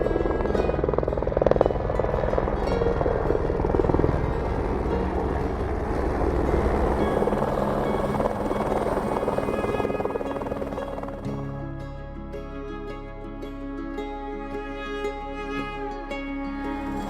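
A rescue helicopter on Aconcagua mountain roars close by with loud rotor and engine noise for the first ten seconds or so, then fades and thins as it lifts away.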